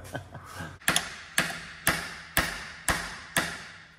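A hammer tapping while working on a Ferrari 550, a run of sharp metallic strikes, first a few light quick taps, then evenly spaced louder blows about every half second, close and alone.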